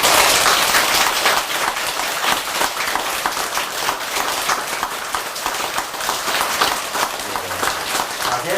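An audience at a Buddhist temple dharma talk for Buddha's Birthday claps continuously, a loud, dense and unbroken patter of many hands filling the whole stretch.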